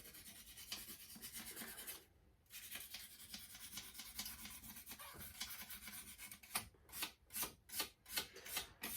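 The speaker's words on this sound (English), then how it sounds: "Let's just try a bit of this sandpaper. Just give the old needle a bit of a clean up." Sandpaper rubbed by hand over the needle from an MG Maestro Turbo carburetor, a steady faint scratchy rasp that turns into quicker separate strokes near the end.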